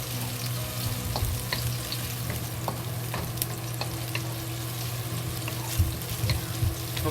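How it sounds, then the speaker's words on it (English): Scallions frying in hot oil in a pan before collard greens and eggs go in, a dense steady crackling sizzle with scattered pops and a low hum, close and continuous without speech. "Start frying. Add the scallion. Slowly fry until the scallion releases good smell."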